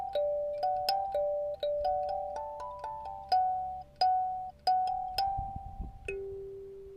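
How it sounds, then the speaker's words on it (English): A doorbell chimes repeatedly with clear, tonal ding-dong notes in a quick irregular series, each note ringing out and decaying. The chimes are fairly soft and sound alone, with no talking. "Oikawa flinches at the sudden doorbell."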